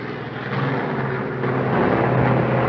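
A carrier aircraft comes in to land nose up and too slow, its engine a steady, loud, broadband drone with a low tonal hum that swells slightly toward the end.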